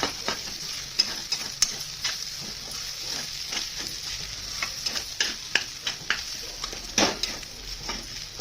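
Egg pohe being stirred in a pan: repeated sharp spatula scrapes and taps at an uneven rhythm over a soft, steady sizzle, close and fairly loud, without speech.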